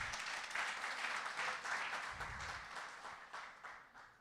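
A church congregation claps together in a steady wash of applause, fairly faint and distant, tapering off slightly toward the end.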